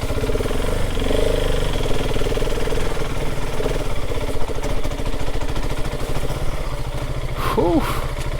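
A 2026 KTM 690 Enduro engine pulling in second gear on a rough green lane, a loud, steady single-cylinder thrum close by, with a rider's voice over it near the end.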